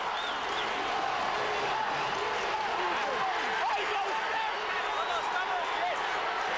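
Large stadium crowd at a 2005 San Jose Earthquakes vs Chivas USA soccer match, with Chivas USA supporters making a steady, dense roar of cheering and chatter throughout, without any clear peaks.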